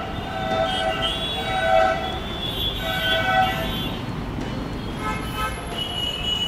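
Metro train at PCMC station in Pune, a steady rumble of the running train with repeated tonal horn or warning tones over continuous rail and traffic noise.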